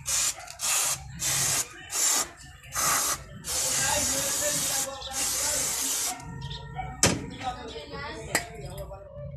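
Close hissing bursts of parts cleaner sprayed on car brakes, four quick spurts followed by a long steady spray, then quieter tool clinks and low talk.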